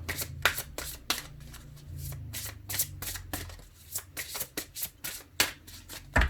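Tarot cards being shuffled by hand, a rapid run of crisp close riffles and slaps in quick uneven bursts with short pauses between them.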